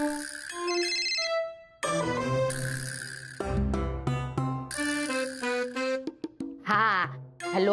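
A mobile phone rings indoors in a melodic electronic ringtone, bright tonal notes stepping up and down in a steady pattern, loud and close, while a person talks over it.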